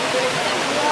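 A waterfall at Rock Garden Chandigarh rushes as a loud, steady broadband roar of falling water, filling the whole moment without a break.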